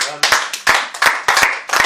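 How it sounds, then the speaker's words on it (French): A church congregation clapping at a service, loud rhythmic rounds of hand claps close by, with voices mixed into the applause. "Est-ce que tu peux acclamer pour le Seigneur?"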